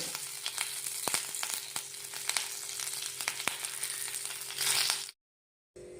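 Curry leaves sizzle and crackle in hot oil for a mango curry, a steady bright frying hiss with scattered sharp pops, then it cuts off abruptly to silence near the end.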